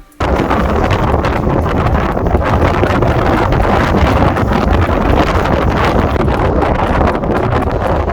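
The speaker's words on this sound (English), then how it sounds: "I'll let you hear some of the wind for the experience of it" Strong, continuous wind roars and buffets against the microphone at the summit of Ben Macdui in the Cairngorms during a total whiteout, loud and unbroken throughout with no voices.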